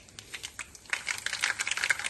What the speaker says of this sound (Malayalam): അതിലേക്ക് 1 സ്പൂൺ കടുകിട്ട് പൊട്ടിക്കുക.